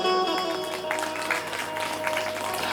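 A crowd at a Hindu religious discourse, a Shrimad Bhagwat Katha in Manegaon, Chhindwara, claps steadily, a dense patter of many hands sustained throughout with a sustained musical tone humming underneath.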